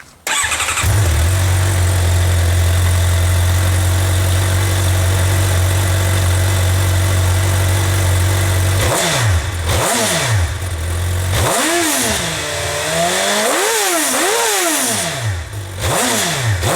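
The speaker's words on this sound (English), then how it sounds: "So right now I'm just going to rev it with the stock exhaust" A Suzuki GSXR 600/750 sport motorcycle on its stock exhaust idles steadily and loudly, then gets blipped with several sharp revs that climb and drop back, all close up and with no voices.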